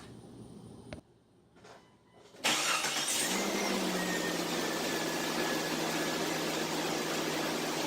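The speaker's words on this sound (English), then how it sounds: "It has cranked over a whole lot faster than it has in a long time." A Jeep Cherokee engine cranking briefly after a battery terminal replacement and catching fast, then settling into a loud, steady idle heard up close that runs to the end.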